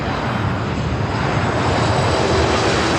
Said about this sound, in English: Southwest arriving here on the north side